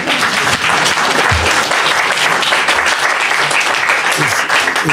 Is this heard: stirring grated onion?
no